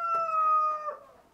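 A rooster crows once inside a greenhouse on a rainy day, a loud, close, harmonic call that holds steady and then trails off.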